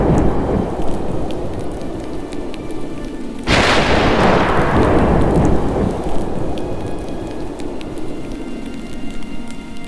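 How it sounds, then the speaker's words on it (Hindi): A cartoon thunderstorm bursts in with a sudden loud thunderclap, then dense heavy rain roars on steadily, with crackling rumble fading over several seconds and no voices. "एक दिन गांव में भयंकर तूफान आया"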